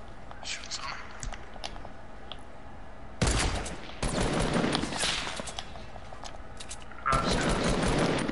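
Bursts of video game gunfire arrive in two loud clusters, a sustained rattle of rapid shots each lasting a few seconds, with quieter whispery talk and background noise between them.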